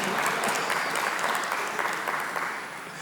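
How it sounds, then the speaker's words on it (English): Sustained audience applause at a labour-law conference keynote, dense steady clapping that fills the room for the whole stretch, easing slightly toward the end. "I thought I'll get a round of applause there."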